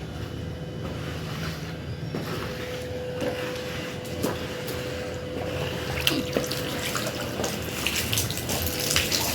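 Water splashing and sloshing across a wet home floor as it is washed and pushed outside with a floor wiper, a steady close wash of running water with small scattered splashes throughout, no talking.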